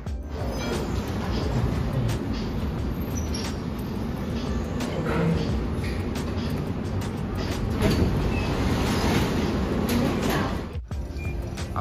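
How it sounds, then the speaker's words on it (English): A steady rumbling ride on the Atlanta airport people mover train, with constant mechanical noise and occasional rattles and clunks throughout. "we now will be taking a little train to our gate"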